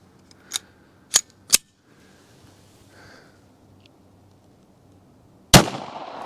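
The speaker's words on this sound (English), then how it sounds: "I'm gonna take another shot just so we can see it a little better." Handgun shots fired into ballistic gel on an outdoor range, comparing .38 Special and .380 Auto from an M&P EZ: three sharp cracks in quick succession, then after a pause one louder nearby report with a lingering tail.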